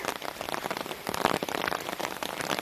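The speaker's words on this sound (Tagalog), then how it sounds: "Ulan. Malakas ulan. Wala no, narinig nyo. Patak sa payong." Heavy rain drums on an umbrella in a rural province setting, making a dense, close, continuous patter of drops with no talking.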